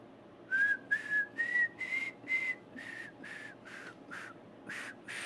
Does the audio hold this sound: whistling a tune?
yes